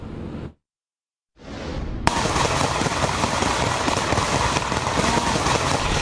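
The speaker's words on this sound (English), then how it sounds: "Final exchange of gunfire there between police and the shooter." Sustained crackling gunfire from the final shootout between police and the shooter in Orlando, Sunday, loud and continuous after a brief burst, a gap of silence, and a rising wash of noise.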